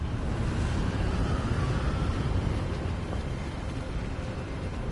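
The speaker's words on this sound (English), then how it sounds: "It's very windy in Scotland." Wind in the Scottish highlands of the game Hogwarts Legacy blows as a dense, steady roar with a gusty rumble, loud and constant for several seconds with no speech over it.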